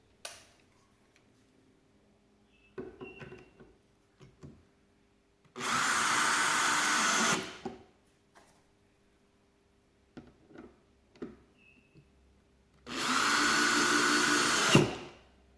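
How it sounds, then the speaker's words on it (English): A power tool drives two screws, each in a loud steady whir of about two seconds, separated by a pause with faint clicks and handling noises. "For this demonstration, I will just mount 2 screws."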